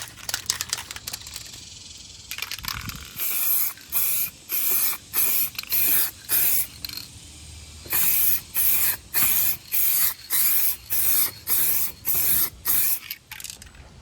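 A spray can paints a color-matched glove box for a 1977 Chevy Silverado in a run of short hissing bursts. The bursts start irregularly, then settle into a steady rhythm of roughly one every second, up close.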